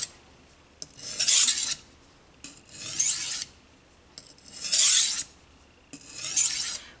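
A knife edge is stroked across a sharpening stone with light pressure to refine the burr: four even, close, raspy scraping passes, each about a second long, separated by short quiet gaps.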